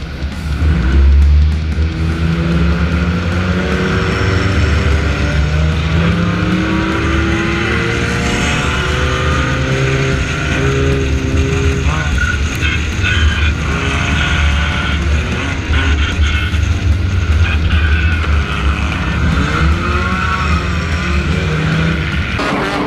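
Race cars roar around a flag pole race at a night of destruction event, engines loud and close from the passenger seat, revving and shifting in rising and falling sweeps with bursts of tire squeal throughout.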